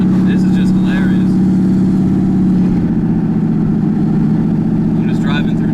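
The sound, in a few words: turbo LSX Chevrolet Colorado truck engine driving through town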